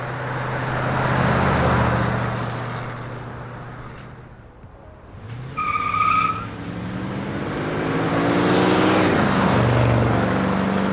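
A 1970 Ford F100 pickup on a road drive, engine and tire roar rising and falling as it accelerates, eases off, then pulls again, with a brief higher tone midway and no speech.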